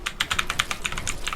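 Rapid clicking from a computer keyboard tilted at an angle while playing Fortnite, a quick irregular run of close, crisp keystrokes with no talk.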